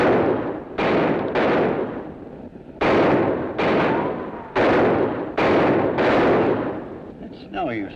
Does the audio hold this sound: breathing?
no